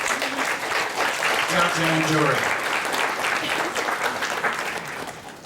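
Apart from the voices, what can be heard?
audience applause at awards ceremony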